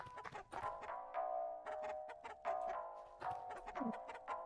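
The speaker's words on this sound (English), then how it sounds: "Chicken!" Chicken clucking from the video game Lisa, a quick run of choppy, bright clucks close and loud, with no talk over it.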